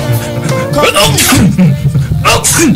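A sudden sneeze bursts out amid ongoing talk and background noise during a live Nigerian FM radio broadcast, loud and close.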